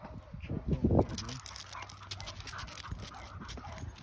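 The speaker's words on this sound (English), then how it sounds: "them dogs in the house somewhere" Dogs pant and whimper inside a house, with several sharp yelps and whines near the start, then quieter rhythmic panting, while a person talks over them.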